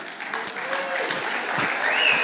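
Short burst of audience applause at a church talk, moderate and steady, with a voice speaking faintly over the clapping.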